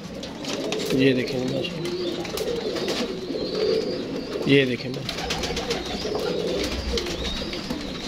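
Pet pigeons coo in a domestic loft, a golden bird among them, with repeated throaty rolling calls close by under someone talking.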